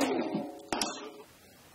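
A metal lid set down on a pot of chicken being cooked with turmeric, salt and curry leaves, two quick close clanks just after the bubbling hiss of the pot fades.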